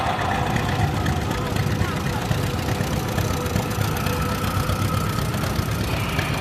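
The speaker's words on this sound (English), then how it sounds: "This is a 1974 John Deere 830, owned and operated by Mike Petroff" A 1974 John Deere 830 tractor engine idles and rumbles steadily through a parade of power at a threshing show, a continuous low mechanical drone with outdoor crowd and voice noise mixed in.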